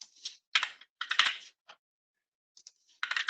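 Fast, light keystrokes clatter on a computer keyboard in short clustered bursts with brief silent gaps, close and fairly quiet.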